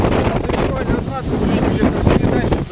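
Loud, steady wind after a storm buffets the microphone with a constant roar, while faint voices can be heard underneath.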